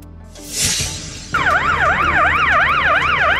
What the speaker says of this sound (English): Military ambulance.